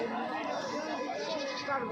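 Male goats bleating at a busy weekly Tuesday livestock market in Kadiri, with calls rising from a steady crowd din while people talk nearby throughout.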